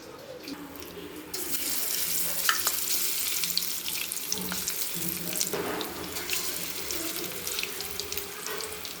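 Steady crackling sizzle of tuna chilli fish frying in hot oil, continuous and close, with occasional louder pops and a brief clatter partway through.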